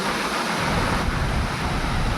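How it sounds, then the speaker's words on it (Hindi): Heavy rain and strong wind in Pune, Maharashtra, India make a dense, unbroken rushing roar, loud and close throughout, with gusting wind buffeting the microphone. "तेज बारिश हो रही है।"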